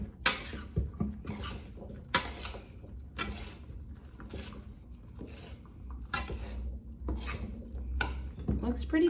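Cruciferous salad is tossed with dressing in a bowl, giving rhythmic clattering bursts of utensils scraping and knocking against the bowl, close and fairly loud, with brief pauses between strokes.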